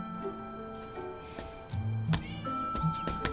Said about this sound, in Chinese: 哇，好可爱的小猫咪